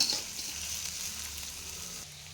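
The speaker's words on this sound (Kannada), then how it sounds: "ಈರುಳ್ಳಿ ಸಾಫ್ಟ್ ಆಗೋವರೆಗೂ ಫ್ರೈ ಮಾಡ್ಕೊಬೇಕಾಗತ್ತೆ." Onion and curry leaves frying in a pan until soft for goat brain egg bhurji, a steady, even sizzle that holds throughout and eases slightly at the end.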